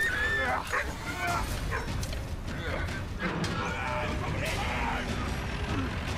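In the Valiant Hearts video game, a dog caught in barbed wire on a World War battlefield yips, whimpers and barks repeatedly, close by, over a steady rumble of machinery and ambient noise.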